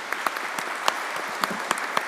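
An audience applauds the university rector at a public document launch, with steady mid-level clapping and a few sharper individual claps standing out over roughly two seconds.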